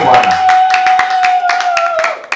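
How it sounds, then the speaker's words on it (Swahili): A church congregation claps hands in a steady, rhythmic beat, the sharp claps close and loud over a sustained voice holding a note. "Chapa makofi, chapa makofi,"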